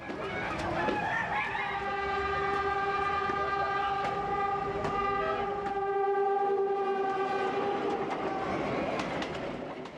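A train rumbles past steadily for the whole stretch in the Philippines, with a sustained tonal horn-like whine over the rolling noise.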